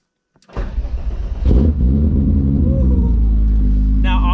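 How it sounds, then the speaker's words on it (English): A VR6 engine in a VR5-swapped Golf 3 cold-starts after a short crank, catches with a loud burst, then settles into a steady, fast idle close to the microphone. "I think a VR6 cold start is definitely in order as well"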